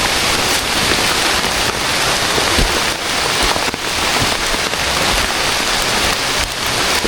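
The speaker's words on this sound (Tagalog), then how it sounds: "Ano kaya ang ulan eh maghapon na ulit" Heavy, steady rain pouring down, a dense continuous hiss with drops pattering on surfaces close by.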